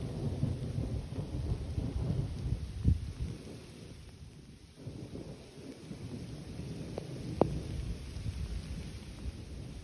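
Rain falls on a cherry orchard in Ziarat, a constant close patter under low rumbling, with a few sharper thuds and louder swells across the span.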